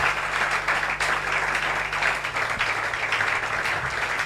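A church congregation claps together steadily and loudly, a dense continuous patter of many hands with a faint low hum beneath it.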